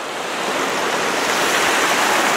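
Creek water rushes steadily at Sweetwater Creek State Park, a broad, even wash of flowing water close by, continuous and moderately loud with no talking.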